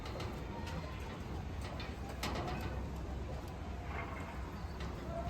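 Imported UAE pigeons coo softly against a steady, loud background hiss and low rumble, with no clear pauses in the noise.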